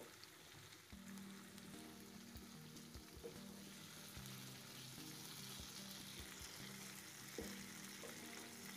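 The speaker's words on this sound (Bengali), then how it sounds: "এখন আমি একে একে আমার ভেজে রাখা মাছগুলো কষানো মশলার মধ্যে দিয়ে দেবো" Fried hilsa fish pieces sit in a cooked-down spiced poppy-seed masala, giving a soft, even sizzle that stays steady and fairly faint throughout.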